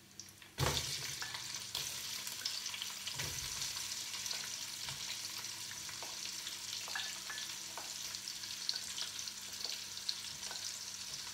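Onions hit hot oil in a pan while cooking a Trinidadian vegetable curry, with a sudden sizzle that settles into steady frying and crackling, plus occasional stirring clicks.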